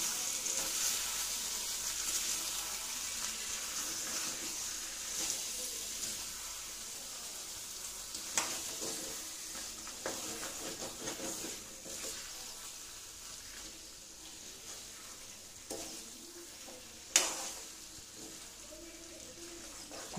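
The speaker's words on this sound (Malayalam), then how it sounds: "ഒന്ന് ചെറുതായിട്ടിളക്കി കൊടുക്കാം." Chicken roast frying in hot oil, a steady quiet sizzle with occasional spatula scrapes and stirring clinks, close and soft throughout.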